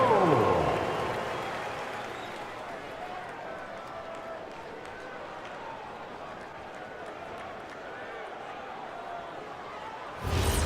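An arena crowd in the NBA 2K26 basketball video game cheers as the Laker girls dance team performs, a dense, distant roar of cheering and applause that swells at the start and returns at the end.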